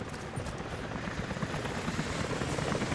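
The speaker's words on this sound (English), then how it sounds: "helicopters are headed your way" Helicopters in the video game Rise of the Tomb Raider, a steady low rotor chop with dense rumbling noise that holds at a constant level throughout, sounding like an aircraft approaching from a distance.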